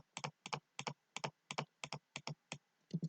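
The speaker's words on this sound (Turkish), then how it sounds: "Klavyenin sesi bu arada çok geliyor olabilir" Keyboard keys clack in quick, evenly spaced pairs, about a dozen strokes close up with no voices.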